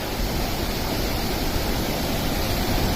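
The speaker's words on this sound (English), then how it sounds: "It's a nice waterfall." Dense roaring wash of falling water at Dabhosa waterfall near Jawahar, loud and unbroken like heavy surf, with no talk over it.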